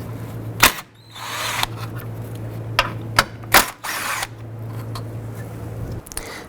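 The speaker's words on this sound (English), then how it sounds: "I'm going to remove these 2 10mm bolts for the radiator fill." A power drill or driver whirs in two sustained bursts, broken by a few sharp clicks and knocks, while removing two 10mm radiator bolts on a 2007-2011 Honda Civic. The sound is close and loud.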